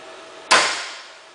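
One sharp, close hammer blow lands on a center punch set on a metal mark, a crisp single crack that rings and fades over about a second with no voices.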